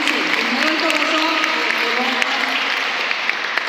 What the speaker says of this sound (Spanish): Dame un aplauso al Señor